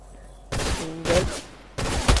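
Fortnite gunfire: three loud bursts of shots in a match, each roughly half a second long, spaced about half a second apart, with no talk over them.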